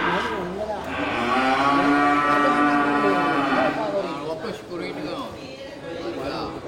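A large bull ready for slaughter moos loudly and at length at a livestock market, a long drawn-out call close by, with crowd chatter and voices continuing underneath.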